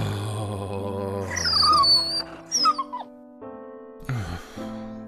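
A dog whimpers and yips in rising, whining cries that break into a short howl-like wail, with clear tonal squeals close up, alternating with quieter pauses.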